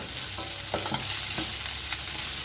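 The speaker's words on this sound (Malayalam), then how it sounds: "10-15 പച്ചമുളക് അരിഞ്ഞു വെച്ചിട്ടുണ്ട്, അത് ചേർത്തൊന്ന് വഴറ്റി കൊടുക്കാം." Chopped green chillies are sautéed in hot oil with garlic and ginger for a Kerala mango pickle, a loud continuous sizzle close by with a few brief spoon scrapes and stirs, no voices.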